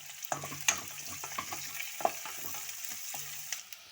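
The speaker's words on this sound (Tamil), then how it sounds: "இப்போ பெரிய வெங்காயத்தை போடலாம். உடைச்ச முந்திரி பருப்பு போட்டுக்கலாம்." Onions, broken cashews and curry leaves frying in hot oil in a pan, a steady close sizzle with scattered crackles and pops and occasional spoon stirring, no voices.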